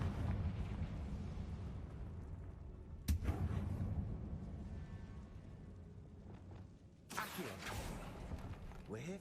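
Fiery Confringo spell blasts in the Hogwarts Legacy video game on PS5, with a sharp explosive burst around three seconds and another, longer one near seven seconds, over a steady rumbling game backdrop.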